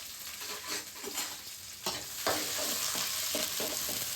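Onions, curry leaves and green chilies sauté in a pan for vegetable kuruma, a continuous close sizzle broken by scraping stirs from a spoon.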